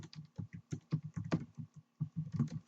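Java code being typed on a computer keyboard: a steady, close run of keystroke clicks with brief pauses, alone without talk.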